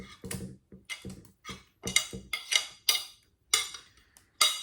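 An egg being beaten in a bowl for tuna parcels, heard as close, irregular clinks and scrapes of a utensil against the bowl in short bursts with quiet gaps and no talk.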